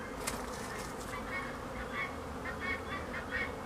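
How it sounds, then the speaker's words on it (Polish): A steady, dense buzzing of many honeybees around hives in midwinter fills the background, continuous and moderately close, with no voices. "Tu widziałem, że się pszczółki kręcą."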